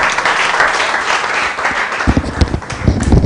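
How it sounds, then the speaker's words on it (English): Audience applause at a startup accelerator demo day, a dense wash of clapping that swells louder toward the end, with sharper individual claps standing out near the close. "A round of applause for them, please."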